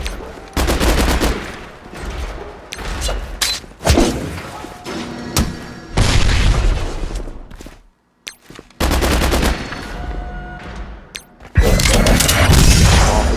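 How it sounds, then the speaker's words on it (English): Heavy game gunfire in Marvel Strike Force, with rapid bursts, booming impacts and thuds as a critical hit lands a kill shot, loud and dense with brief gaps between volleys. "Kill shot right there, boom, critical hit"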